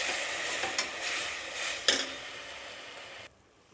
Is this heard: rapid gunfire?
no